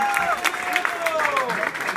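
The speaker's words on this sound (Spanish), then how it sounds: "Fuertes aplausos a los cumpleaños en esta mañana" Audience clapping and cheering for the birthday people at a morning birthday celebration, a lively burst of applause mixed with overlapping voices.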